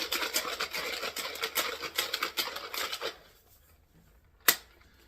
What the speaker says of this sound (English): And we give it a nice little shake.